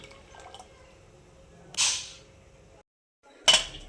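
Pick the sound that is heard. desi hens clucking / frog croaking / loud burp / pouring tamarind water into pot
pouring tamarind water into pot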